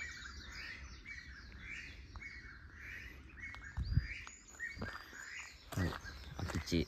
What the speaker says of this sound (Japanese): 鳥の鳴き声がすごい。